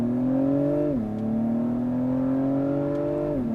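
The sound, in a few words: 2021 Acura TLX Type S accelerating with a gear shift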